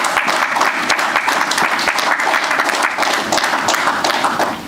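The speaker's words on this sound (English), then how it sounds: "Please give her a round of applause, our Minister of Public Service." Loud, steady applause from a gathering greets the Minister of Public Service at a memorial homage to Fidel Castro, many hands clapping in a thick, continuous roar close by.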